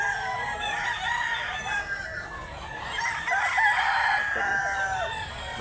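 Roosters crow repeatedly among clucking chickens at a fowl market in Mantalungon, Cebu, with several overlapping calls close by, some soft talk underneath, and steady farmyard bustle throughout.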